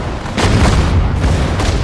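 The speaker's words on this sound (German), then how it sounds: "Feuer!" Deep booming tank cannon shots from Sudden Strike 4, several heavy blasts in quick succession, loud and close.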